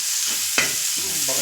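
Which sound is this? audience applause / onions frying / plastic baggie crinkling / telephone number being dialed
onions frying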